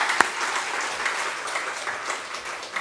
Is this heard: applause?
yes